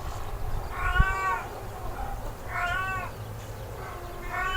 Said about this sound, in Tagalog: Ang ingay-ingay ng aking pusa na si B2.